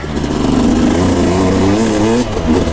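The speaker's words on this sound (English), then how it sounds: "if you downshift and try to keep it in there, then you're revving pretty fast" A KTM 250SX dirt bike engine revving hard on a desert ride, loud and close, its pitch climbing and holding high before a brief dip and renewed rev.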